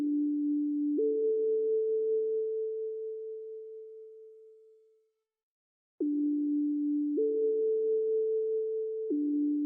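A simple synth pad built in Serum, holding a D and then moving to an A within a single octave: a steady, plain tone that fades to silence midway, then returns alternating between the two notes.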